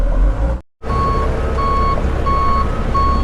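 A dump truck being moved sounds its reversing alarm: a steady series of loud, evenly spaced electronic beeps over a low engine rumble, with a momentary cut-out near the start.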